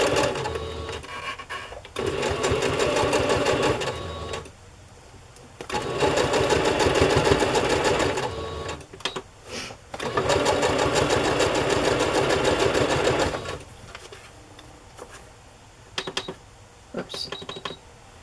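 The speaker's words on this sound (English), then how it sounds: "Now I'll just sew down that long edge, and of course it's easy, you just line it up to the edge of the placemat." A sewing machine stitches down the long edge of a fabric placemat, running in steady whirring, rattling stretches broken by brief pauses, close and clear, with no voices.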